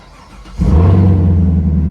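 A big Chevrolet LT1 V8 in a sports car cranks briefly, then roars to life with a deep, loud rumble that settles into a steady idle.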